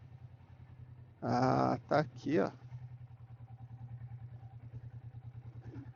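Motorcycle engine idling at a roadside monument in Salesópolis, Brazil, a low steady pulsing throb heard throughout, with someone speaking briefly over it.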